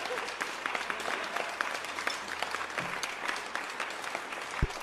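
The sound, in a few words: audience applause for a guest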